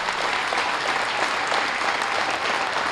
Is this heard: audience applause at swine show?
yes